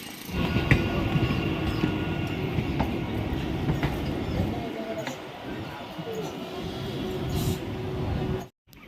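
At the Ranaghat railway station, a train rumbles steadily with a dense low roar and occasional metallic clicks and squeals, continuous and fairly loud until an abrupt cut near the end; voices murmur beneath it.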